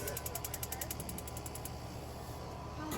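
A small two-burner Char-Broil propane grill with infrared grates being started, giving a rapid, regular train of sharp igniter clicks over a steady low hiss, fairly close.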